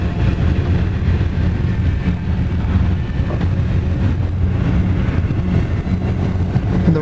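Eastbound train moving very slowly past a road crossing, a loud, steady low rumble with wind noise, constant throughout and heard up close with no talking.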